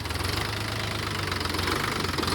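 A tractor engine running in a field gives a loud, steady diesel chug with a rapid, even knocking pulse, close and continuous, with no voices.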